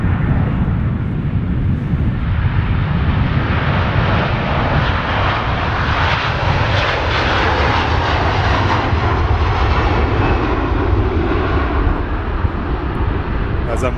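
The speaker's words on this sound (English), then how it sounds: "How did the plane sound? That's the most important thing, guys. Listen to this 330." Airbus A330 airliner engines roaring continuously during a takeoff roll at Manchester Airport, a loud, steady wideband rumble that swells and holds throughout.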